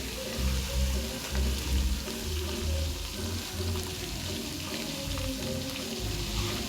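Pieces of pangas fish fry in hot oil in a wok with a constant crackling sizzle, close and steady, with some low clattering underneath.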